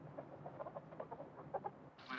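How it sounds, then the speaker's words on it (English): Chickens clucking on a farm flock of around 350 birds, a series of soft, irregular clucks at a moderate distance over low background noise, ending with a brief hissy burst. "Okay, Colonel Sanders, let's see the chickens."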